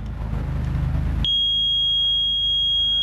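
A magneto timing tester on a Harley-Davidson Shovelhead with a Morris MM74E magneto switches on with a steady, piercing electronic tone that sounds midway through and holds unbroken to the end, over a low background hum.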